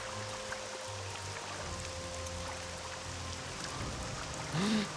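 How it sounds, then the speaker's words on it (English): Steady heavy rain hiss in the Morrowind game world, a constant dense wash of falling water throughout with low rumble underneath and a brief tonal swell near the end. "Very rainy day."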